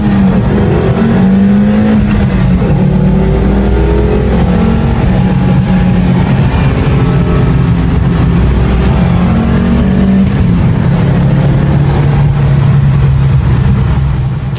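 A German sports car engine revving and accelerating hard, loud and close, its rising and falling tone sustained throughout with no talk.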